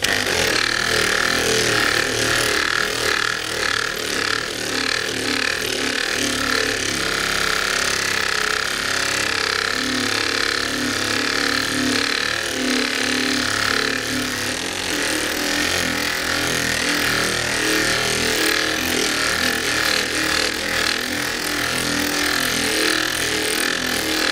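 An electric buffer polishes a motorcycle fuel tank on an FZR restoration, a loud, steady whirring motor drone that holds continuously with a slight rise in speed.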